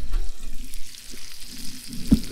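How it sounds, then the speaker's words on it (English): Fish sizzles quietly in a frying pan with a soft crackle, and a louder knock lands near the end. "Ooh, that's sizzling."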